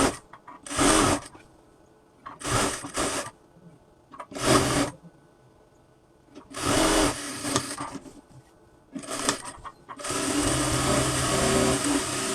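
A sewing machine stitches a kameez hem folded over by half an inch, running in five or six loud, close bursts of whirring with short pauses between, the last run long and steady.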